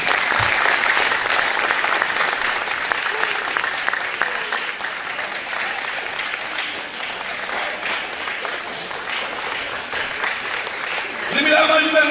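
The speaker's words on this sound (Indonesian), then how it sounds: "Tepuk tangan buat Tuhan Yesus." A church congregation at a seminar breaks into sustained applause, a steady dense wash of many clapping hands that holds for several seconds and swells again near the end.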